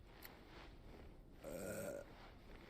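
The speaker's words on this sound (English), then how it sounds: "Knew he was gonna friggin' burp." A character in the video game Final Fantasy XVI lets out a single short, faint belch, low and throaty, over quiet background ambience.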